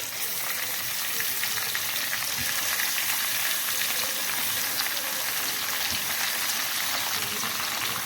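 Chicken pieces fry in masala in a pan over low to medium flame for chicken bhindi masala, a loud, even, continuous sizzle with crackling spatter and occasional soft stirring knocks.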